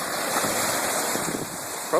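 Ocean surf at a cold-water beach, a broad continuous wash of waves with wind rushing over the microphone, steady and fairly loud, a brief bump near the end.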